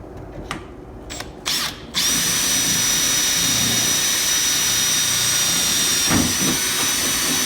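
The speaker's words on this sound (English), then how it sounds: "you can drill your second hole." Close, loud power drill boring a hole through a go kart skid plate on the chassis; a few short bursts, then a steady high whine held for several seconds.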